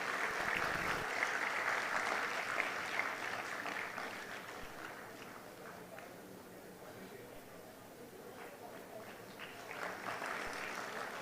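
Clapping from the crowd at a national eminence award ceremony runs throughout, moderately faint and steady with a slight dip in the middle, while voices murmur beneath it.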